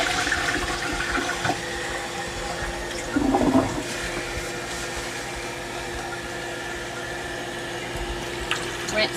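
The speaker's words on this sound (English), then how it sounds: "To the toilet and flush." A toilet flushing in a clinical care setting, a steady broadband rush of water running throughout with a brief louder surge partway through, heard up close without speech.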